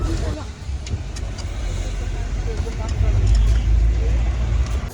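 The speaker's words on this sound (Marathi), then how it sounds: "चला बस निघालेली आहे" A tour bus on a trip from Mumbai to Shimla pulls away and drives on, its low engine rumble steady and close inside the cabin, with passengers chattering faintly underneath.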